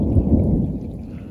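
Low, sustained rumble of thunder from a lightning storm near a campsite, loud and continuous, with no voices.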